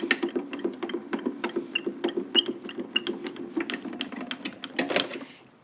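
A die-cutting machine feeds craft dies through its rollers for a bow-tie card embellishment, giving off a quick, even train of mechanical clicks and ratcheting whirs at close range that stop abruptly at the end.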